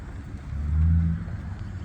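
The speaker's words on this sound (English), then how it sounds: "Some idiot with their Jake brake in town." A truck's engine brake rumbles low and gruff through a town, swelling briefly into a deep pulsing growl before easing back, heard from some distance.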